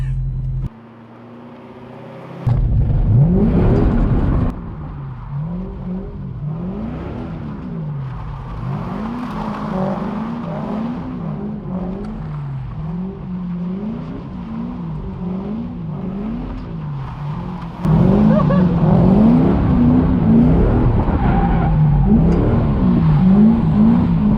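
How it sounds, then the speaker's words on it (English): A drift car doing donuts revs hard and repeatedly, its loud, close engine note rising and falling in a steady cycling pattern, surging louder again near the end. "I'm just gonna do some donuts and see how it goes."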